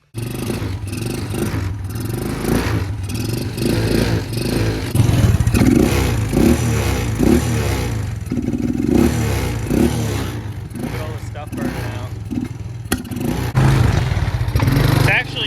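Old Suzuki quad ATV engine brought back to life after sitting for over 15 years, running with a rough, clattering idle and uneven revs, close by, with a voice talking over it.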